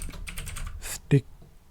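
Typing a sticky note on a computer keyboard in a Confluence Cloud whiteboard: a quick run of soft, close key clicks, then a pause and one louder, sharper tap near the end.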